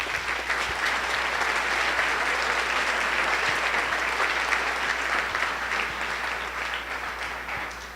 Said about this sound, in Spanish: Denle un aplauso a nuestro Rey, por favor.